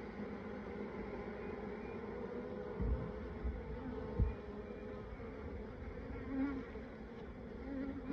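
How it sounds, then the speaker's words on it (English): A dense, steady hum of many honeybees buzzing close around a hive, continuous throughout with a few brief soft knocks partway through. "Brush these bees off of here"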